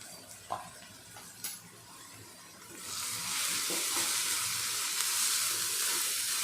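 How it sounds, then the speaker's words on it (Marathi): Green chilies, curry leaves and asafoetida hitting hot oil in a pan with sautéed onion, bursting into a loud, steady hissing sizzle after a few soft clinks and stirring knocks, then frying on continuously. "ह्याच्यामध्ये आता मी मिरच्या आणि कढीपत्ता दोन्ही टाकत आहे हिंग टाकत आहे"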